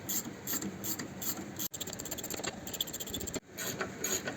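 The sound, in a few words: unscrewing the rear differential bolts on a car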